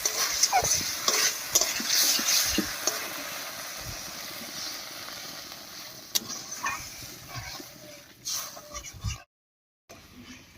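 Masala for a masoor dal and pointed gourd curry stirs and fries in a pan, with water added for the gravy. Scraping and sizzling persist throughout, loudest early and easing off, with a brief cut-out near the end.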